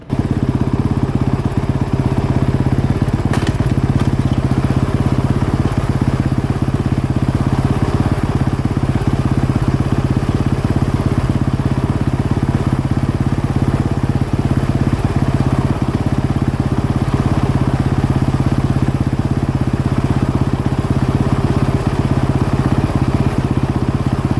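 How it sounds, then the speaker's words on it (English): A 2016 Suzuki RM-Z450 motorcycle engine runs steadily in gear while the bike sits on a stand, giving a continuous, even drone with a constant idle-like hum throughout. "Start up, put it in gear, and let's watch it on the stand as it spins"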